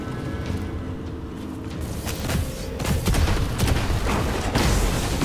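Sniper fire hitting the player in Immortal Unchained, heard as sharp, loud shots and impacts that build over a few seconds amid dense game noise and rumble.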